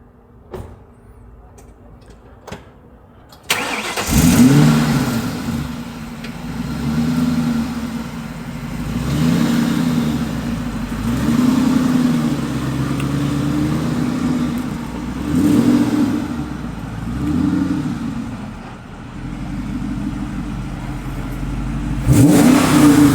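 A NewEdge Ford Mustang engine cranks and fires, then revs repeatedly in rising and falling swells, loud and close, settling into a rumbling idle between pushes.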